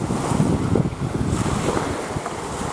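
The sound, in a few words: wind at Lac Serre-Ponçon lake shore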